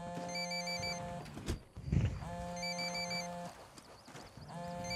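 A video game phone in Ghost Recon Wildlands rings in repeated electronic tone bursts, fairly faint, with brief thumps and game noise between rings.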